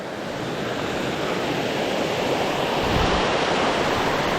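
Small lower waterfall at Pig Pen campground on the trail toward Licklog Falls, a steady broadband rush of falling water heard up close, continuous and unbroken with no voices over it.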